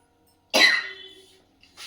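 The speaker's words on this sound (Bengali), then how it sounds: "কথা বলবো কি, কাশি না কমে না আমার।" A single harsh cough bursts out close by, trailing off into a rasp, followed by a short weaker cough.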